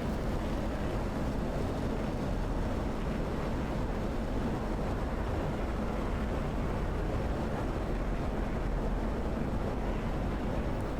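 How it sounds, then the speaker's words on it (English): An F-16 Viper jet in DCS on the Syria map takes off with afterburners lit, giving a steady, loud, broadband roar that holds constant throughout with no talk. "DCS F-16 Viper and Syria map. Afterburners are on and looking for about 180 knots."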